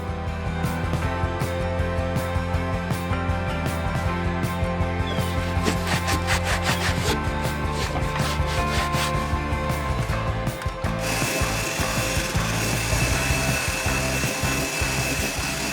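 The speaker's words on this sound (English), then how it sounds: "I bought a wire brush for my drill. I'm going to try to clean those up." A wire brush spun on a power drill scours rust and old floor glue residue off a camper van subfloor, a loud continuous whirring grind with shifting pitch that runs unbroken throughout.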